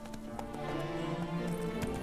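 Roach the horse's hooves clopping steadily in The Witcher 3: Blood and Wine, a continuous run of close hoofbeats over game music and ambience.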